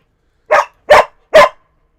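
Dog barking indoors: three loud, sharp barks evenly spaced about half a second apart, close by, with silence between them and no talk.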